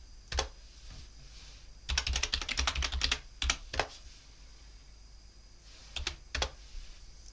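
A command being typed on a computer keyboard in a Linux terminal: close, crisp key clicks in bursts, one fast run of rapid strokes, then short pauses and a few separate taps, with no speech.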